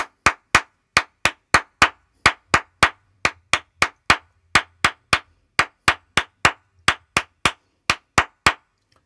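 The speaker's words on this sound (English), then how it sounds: "So if you clap the Paciro Alto also faster, then you will hear the three and the four together." Hand clapping in a partido alto rhythm pattern, sharp crisp claps close up in a repeating syncopated grouping of uneven gaps, with a faint low hum underneath at times.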